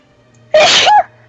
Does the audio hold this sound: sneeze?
yes